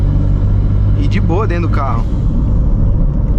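Stage 2 tuned VW Up TSI with a dual exhaust, its low, steady engine rumble running under someone speaking Portuguese from inside the car.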